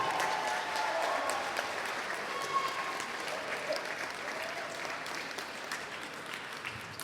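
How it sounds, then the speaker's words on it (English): Wedding guests applaud for Max and his mum, a steady, dense wash of many hands clapping at even loudness throughout, with no voices standing out. "can we just give like Max a round of applause and mum a round of applause"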